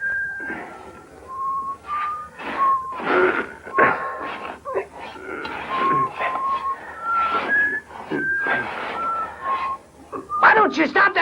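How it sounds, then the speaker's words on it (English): A man in a Western film whistles a wavering tune in short phrases, clear and close, while other voices and sounds break in between the notes. "Why don't you stop that damn whistling?"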